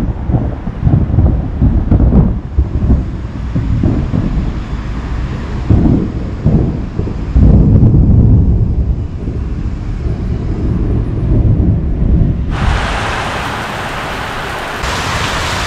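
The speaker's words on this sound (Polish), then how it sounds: "Burza przeszła, kolejna będzie za około 2 godziny" A summer thunderstorm on a hilly Polish cycling trail in the Kraków-Częstochowa Upland, with steady rain and gusting wind buffeting the microphone in a continuous loud roar, low rumbles surging throughout and a sharper hiss of heavy rain near the end.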